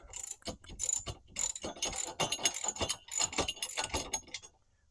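A ratchet clicks rapidly in close bursts while tightening bolts on a ladder-mounted tire carrier, quick pawl ratcheting strokes with brief pauses between runs.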